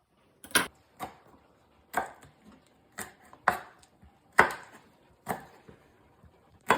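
Knife chopping parsley on a cutting board, about a dozen crisp, separate chops in an uneven rhythm with short pauses, close and clear with no talk.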